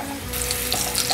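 Sliced carrots drop into hot oil with ginger slices in a wok, bursting into a loud, steady frying sizzle that jumps up after a quieter first moment and holds at full strength, no voices present.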